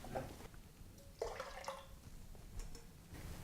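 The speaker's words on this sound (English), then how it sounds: "we're just going to finish it off with a litre of boiling water" A litre of boiling water poured into a brandy punch with lemon juice, giving a splashing, liquid pour with a louder gush around the middle and lighter trickles after, close by with no talk.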